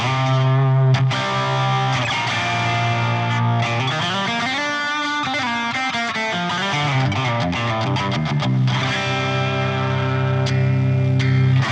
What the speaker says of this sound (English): This is a plexi sound, so it's a really crunchy tone.